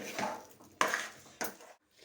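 Spiced masala for Kutchi dabeli being mixed with tamarind-jaggery water: three separate scrapes and clinks of a spoon in a metal vessel, close and fairly soft, ending in a brief silence, with no one speaking.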